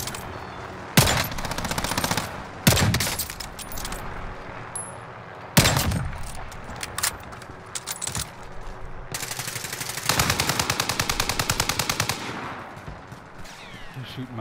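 Gunfire in Call of Duty Modern Warfare: loud, sharp shots and rapid automatic bursts with echoing booms, spread through a steady background din and louder near the end.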